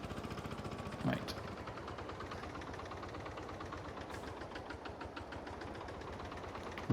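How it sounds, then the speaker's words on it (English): A tractor engine in Farming Simulator 22 idles steadily with an even, rapid knocking pulse, loud and constant, with one brief clunk early on. "We'll turn the engine off."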